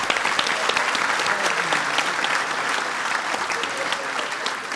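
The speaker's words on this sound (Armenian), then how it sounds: "ծափեր են գնաց։" A studio audience gives sustained, dense applause, a steady wash of many hands clapping close and loud throughout, with no voices standing out.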